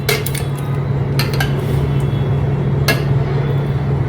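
A mixer jar for making mango lassi is handled on a kitchen counter, giving three sharp clinks and knocks spread over a few seconds above a steady low background hum.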